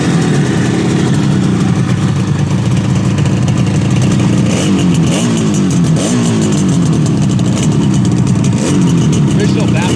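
A 1972 Yamaha YDS7 250 two-stroke motorcycle with original baffles runs loud and close, a dense buzzing exhaust with short throttle blips rising and falling over a constant engine roar.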